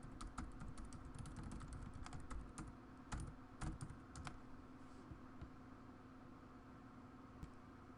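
Rapid clicking on a computer keyboard as a web address is typed, fast irregular keystrokes close up in a quiet room.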